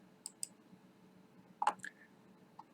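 A few soft, separate computer mouse clicks, made while working in Sign Pro PDF software alongside a Wacom STU-430 signature pad. They are scattered irregularly and sound close and quiet over faint room hum.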